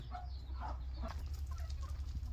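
Several free-range village chickens in a poultry shed cluck softly in short bursts against a constant low hum, fairly faint and scattered.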